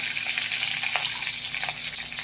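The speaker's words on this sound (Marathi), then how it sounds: "मी खूप तेल टाकलेलं नाहीये, थोडंसंच तेल टाकलेलं आहे। मोहरी टाकली आहे, त्यानंतर बारीक चिरलेली हिरवी मिरची" Mustard seeds and finely chopped green chili sizzling in a small amount of hot oil, a steady, bright crackling hiss with occasional pops, heard up close and alone.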